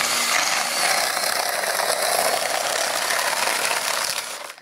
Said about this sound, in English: Let me drill it in.